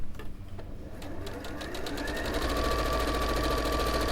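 A sewing machine run with a foot pedal, starting with stuttering stitches and then speeding up into a loud, steady whirring drone close by.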